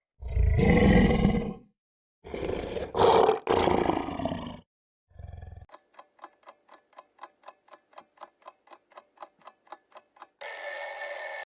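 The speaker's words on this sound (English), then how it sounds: "It's a tiger." A tiger roars twice, deep and loud, then a steady clock ticking follows and a bright electronic tone ends it.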